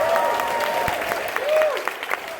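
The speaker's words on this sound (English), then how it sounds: "big round of applause for this guy" A convention panel crowd at Dragon Con gives a round of applause mixed with cheering and whoops, steady and moderately loud for a couple of seconds, with a few sharper claps standing out.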